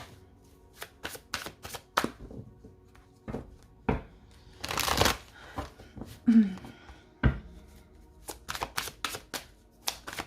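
Tarot cards being shuffled and laid out in bursts of crisp, close riffling and slapping, separated by quiet gaps, with a brief murmur of voice in the middle.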